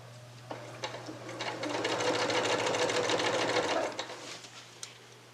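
Sewing machine stitching the curved seams of a 9-inch quilt block: a close, steady rapid whirring run of a few seconds, with brief starts and stops at either end.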